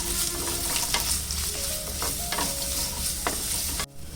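Onion, ginger and garlic sautéing in oil in a pan, a steady close sizzle with repeated scrapes and stirs of a spoon, loud and continuous, stopping abruptly near the end.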